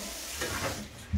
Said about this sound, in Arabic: احول للرين شاور من فوق